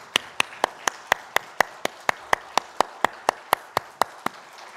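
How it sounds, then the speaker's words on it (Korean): A church congregation at an Easter Sunday service claps in a steady unison beat, about four claps per second, crisp and evenly spaced with a quieter spread of hands underneath. "하나님께 영광의 박수 올려드리겠습니다."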